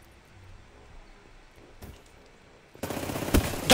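Rapid automatic gunfire in Call of Duty Black Ops III bursts in loud and close after a quiet stretch, following a faint earlier shot.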